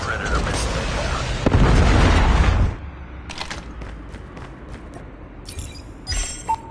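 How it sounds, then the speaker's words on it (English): A predator missile strike in Call of Duty Mobile lands as a loud, sustained booming explosion with a rumbling blast surge, followed by quieter battlefield noise and scattered sharp pops. "Friendly predator missile inbound."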